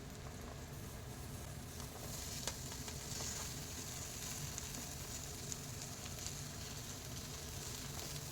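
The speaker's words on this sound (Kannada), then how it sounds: "ಈಗ ನಾನು ತೊಗೊಂಡಿರೋಂಥ ತೊಂಡೆಕಾಯಿನ ಕಟ್ ಮಾಡಿರೋದನ್ನ ಹಾಕ್ಕೊತಾ ಇದ್ದೀನಿ." Cut ivy gourd frying in a pan with onion and green chili, a steady, soft sizzle with faint crackles throughout.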